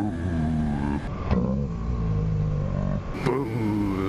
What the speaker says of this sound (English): Sounds like there's a sports car.